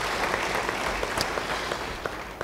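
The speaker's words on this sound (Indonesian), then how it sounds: "Yang jelas beri tepuk tangan bagi dia." Church congregation applauding a man during a sermon, dense steady clapping from a crowd filling the room, fairly close and even throughout.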